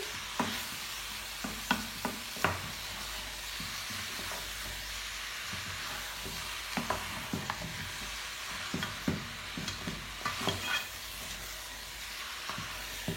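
Chopped onion and garlic frying in a pot of oil for spiced pilau rice, giving a steady sizzle with scattered scraping stir clicks and clacks throughout, close and alone.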